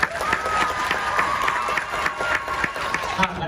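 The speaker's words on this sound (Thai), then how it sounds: "ขอเสียงปรบมือให้กับทุกท่านด้วยครับ" Applause from an audience at a Thai pre-meeting event, steady full clapping with a crowd murmur underneath that carries through without pause.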